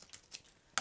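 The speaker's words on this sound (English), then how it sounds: "I'm going to cut it in half." Scissors snipping through paper confetti for a New Year's Eve hat craft: three quick faint cuts spaced apart, the last one sharper and louder, with no talk.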